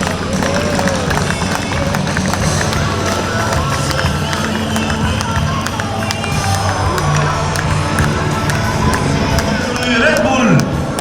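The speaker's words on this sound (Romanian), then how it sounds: "Haideți să-l aplaudăm, doamnelor și domnilor!" Airshow crowd over Bucharest at BIAS 2025 cheering and clapping outdoors, a continuous loud wash of voices and applause, with some near voices and faint background sounds mixed in.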